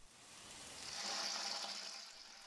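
Warm water runs from a faucet into a bucket for homemade laundry detergent, a steady rushing pour that swells in the middle and eases slightly, heard alone without talk.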